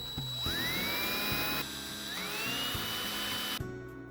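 A small rotary tool drills holes for the arms in a clay sculpture of a buff Yoshi, whining steadily at close range and rising in pitch twice as it spins up, with no talking.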